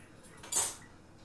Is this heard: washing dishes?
yes